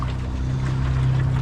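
A boat engine idles at sea, giving a steady low throbbing hum that is close and loud, with no voices over it.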